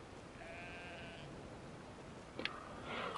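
Lambs in the video game Brothers: A Tale of Two Sons give a couple of faint, wavering bleats against a quiet background, followed by a brief sharp sound and soft rustling.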